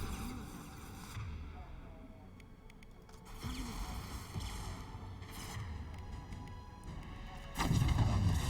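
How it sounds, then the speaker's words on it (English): Rockets exploding in Mass Effect 2 combat, several heavy booms amid gunfire, the loudest blast near the end, with a voice speaking between them. "Rockets."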